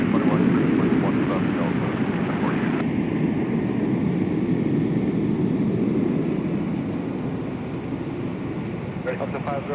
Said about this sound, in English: How about that BizJet departure?